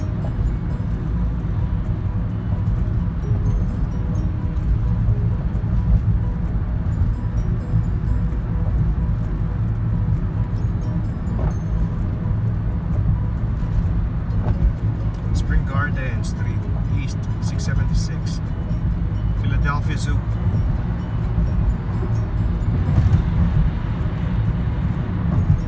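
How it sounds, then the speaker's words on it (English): A Toyota Prius hybrid drives through a Philadelphia winter, a steady low road rumble and cabin drone lasting throughout, with people talking over it. "Driving Toyota Prius. It's a hybrid car."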